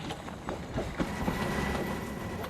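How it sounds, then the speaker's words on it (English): A Class Mk48 diesel train runs along a Hungarian branch line, a steady rumble with rhythmic clicks of wheels over rail joints, heard fairly faint and distant with no voices. "This train is heading along the branch to Domrad."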